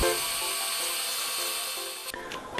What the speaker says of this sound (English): Pull the trigger and the reaction plate will move until it rests solidly against it.